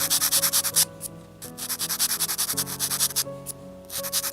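A file-style sandpaper strip rasps over a small miniature bowl in quick, rhythmic back-and-forth strokes with brief pauses, close and clear over a faint steady tone in the background.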